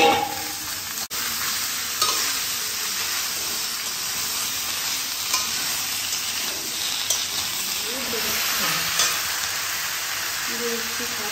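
Chopped ash gourd and potato fry in a pan with a loud, steady sizzle and hiss that runs unbroken, with occasional stirring scrapes mixed in.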